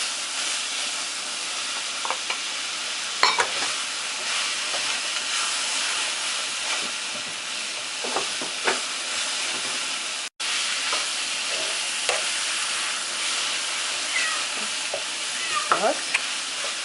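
Onions and zucchini sizzle and hiss steadily in a hot pan, with occasional scraping clicks and knocks from stirring spread across the mixture, and no one talking.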